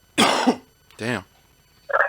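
Three short, harsh coughs come in quick succession with brief pauses between them, loud and close.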